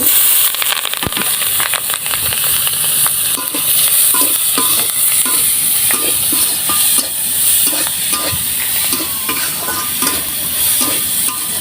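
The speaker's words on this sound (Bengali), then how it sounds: "মরিচ পেঁয়াজটা হালকা একটু ভেজে নেব" Chopped chili and onions fry loudly in hilsa fish oil, a dense continuous sizzle with steady stirring scrapes and crackles throughout, close and unbroken.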